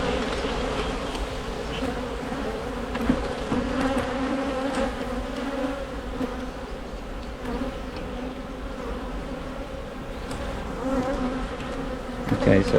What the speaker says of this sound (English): I don't want to be covered in bees.